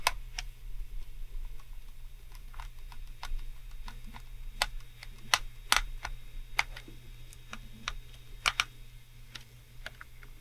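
Small screws being removed from a PS1 controller, a scattered series of faint, close ticks and clicks over a low steady hum.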